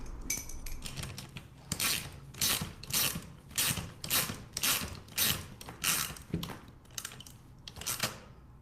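Small mechanical parts of an extendable angel wing mechanism being tightened down, a series of regular clicking, ratcheting bursts close by, roughly one every half second, with no talking.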